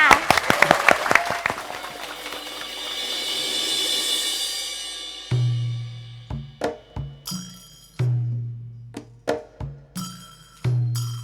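Audience applause at a Thai Saturday variety show concert, a dense clapping wash over music for several seconds, then fading into sparse scattered claps alongside rhythmic thumps.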